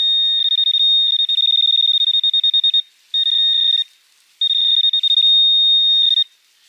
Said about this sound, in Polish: Teraz użyję ręcznego wykrywacza metali, żeby precyzyjnie namierzyć ten sygnał.